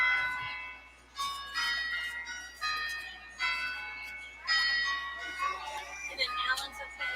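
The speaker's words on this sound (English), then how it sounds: "You can hear the bells from Christchurch Cathedral, which is on the circle." Bells of Christchurch Cathedral ring out across an open circle downtown, several struck tones sounding at a steady pace, each ringing on and fading a little before the next, moderately loud over a low background hum.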